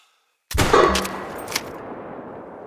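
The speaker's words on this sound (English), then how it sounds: "Try to shoot that target. Still using the rifle, of course." A single rifle shot cracks out loud and close at a target in theHunter: Call of the Wild, a sharp onset after silence followed by a long rolling echo that fades slowly across open terrain.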